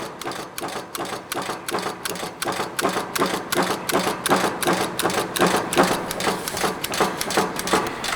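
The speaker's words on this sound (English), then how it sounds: "it's going to go ahead and go like a sewing machine" A used 30 ton Strippit single end fabricator punch nibbles steel in a rapid, steady train of mechanical strikes, like a sewing machine, loud and close with no talk.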